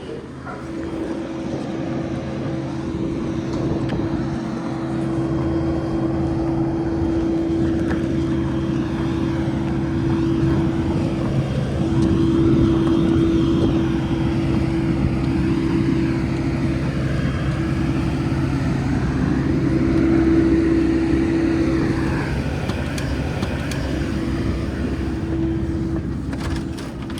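A Dash 8-200 turboprop drones steadily from inside the cabin, with a constant engine hum and propeller tone that swells and eases slightly over nearly half a minute.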